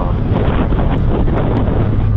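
Steady, loud wind buffets the microphone in a continuous rumbling roar, with no voices.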